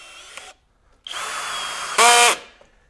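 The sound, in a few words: Kobalt KHD124 24V brushless drill driving and countersinking screw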